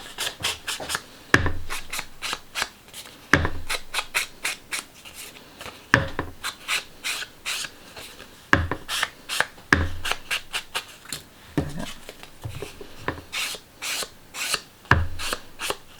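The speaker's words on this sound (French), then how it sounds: "Alors moi je l'ai embossé" A tool rubs firmly across paper for a three-panel card, producing repeated rasping strokes in fast, irregular bursts with brief pauses, close and fairly loud, with no voices.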